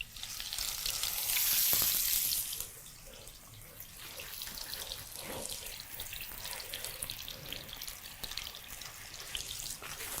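Chicken kabob patties sizzle in hot oil with a steady, close frying hiss that is loudest at the start when they go into the pan, then settles to a continuous crackle with no talking.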